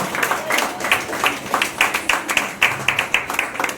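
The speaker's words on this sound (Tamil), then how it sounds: "உங்கள் கைத்தட்டங்களை அன்போடு கேட்டுக்கொள்கிறேன்" An audience at a women's award and book launch ceremony claps in a loud, near, fairly rhythmic burst of hand claps, steady from start to finish.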